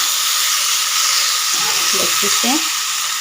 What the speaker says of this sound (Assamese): ৰঙালাওখিনি মই ভাজি ইমান ধুনীয়াকৈ